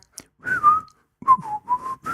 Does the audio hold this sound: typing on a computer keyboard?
no